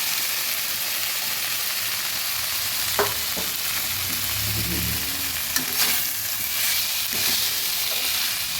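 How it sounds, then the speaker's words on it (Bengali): Beans, onion shoots and fried potatoes fry in spiced oil, giving a loud, steady sizzle with scattered stirring scrapes and clicks from the pan and no voices. "ভালো করে ভেজে দিচ্ছি"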